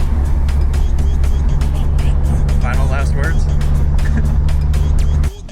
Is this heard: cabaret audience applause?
no